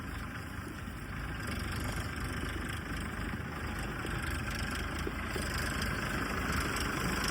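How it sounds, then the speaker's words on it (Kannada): A Sonalika tractor engine idles steadily with a low, continuous rumble and faint mechanical vibration, unchanging throughout and without any speech. "powerful tractor, power track"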